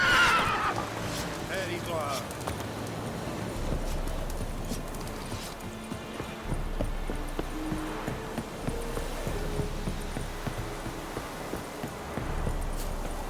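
A horse in The Witcher 3 video game gives a brief whinny at the start, then steady clip-clop hooves carry on under game ambience and spoken dialogue for the rest of the stretch.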